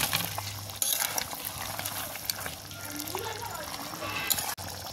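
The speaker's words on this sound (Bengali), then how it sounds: "এবার আমি ভেজে রাখা মাছটা দিয়ে দেবো" Pieces of fried snakehead fish going into a simmering raw-mango gravy in a pan, with soft bubbling, stirring and scraping, a few sharp clinks of utensils, and faint background hum.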